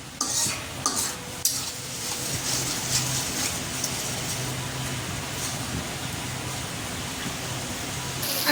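Masala sautéed with fried onions in a pan, a soft continuous sizzle under a few close scraping spoon strokes early on, then an even hiss, with no voices.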